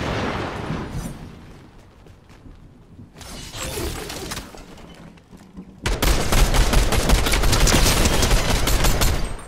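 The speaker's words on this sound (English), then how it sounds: "There's a guy shooting you." Gunfire in the video game Fortnite crackles in dense bursts, fading to a sparse lull before a loud, sustained volley of rapid shots.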